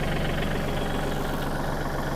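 A used Kubota L3608SP tractor with 1861 hours and a synchro shuttle gearbox idles nearby, its diesel engine giving a steady, even low rumble with no talking.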